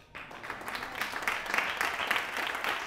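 A church congregation claps during a sermon, a steady wash of many hands beginning sharply and holding at moderate loudness for a few seconds, with no voices over it.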